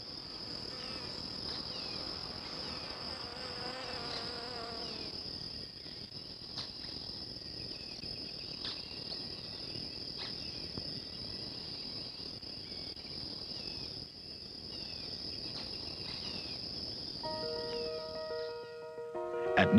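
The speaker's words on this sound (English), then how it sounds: "The flowers attract bees and other insects." Insects around flowers fill the air with a continuous high, steady chirring drone at moderate distance, joined near the end by a few brief tonal notes; no voices.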